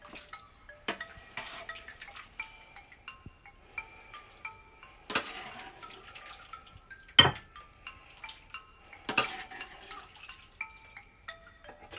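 Thai tom yum noodle soup being served into bowls, with sparse clinks of ladle and bowl, light drips and faint scraping, quiet and close, with a few sharper knocks spaced apart.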